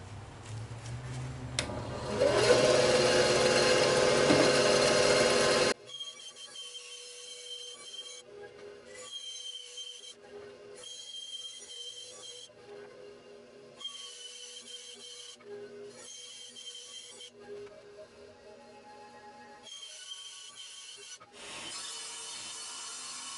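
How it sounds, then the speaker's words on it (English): A jigsaw cuts wood for seat supports of an Adirondack chair, a loud, steady buzzing rasp for about six seconds. Quieter workshop rustling and handling noises follow in short bursts. "So that's the reason why I'm using a jigsaw."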